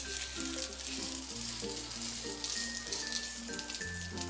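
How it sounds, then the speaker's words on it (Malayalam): Fish wrapped in banana leaf fries in coconut oil on a chapati pan, giving off a steady, close, bright sizzle that carries on throughout with a soft tonal layer underneath. "ഇനി പതുക്കെ ഈ വാഴയിലയിൽ പൊതിഞ്ഞ ഫിഷിനെ ഇതിലേക്ക് വെച്ചു കൊടുക്കാം."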